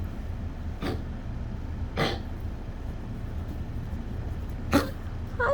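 A dog coughs hard in a 3am coughing fit, three or four short harsh bursts spaced a second or more apart, close and fairly quiet over low background hum.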